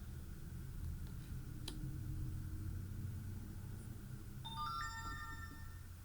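An electronic phone ringtone chimes in a short rising melodic burst near the end, over a steady low rumble of background noise.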